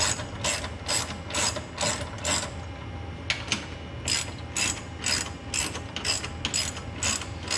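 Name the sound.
ratchet tightening sway bar bolts on a car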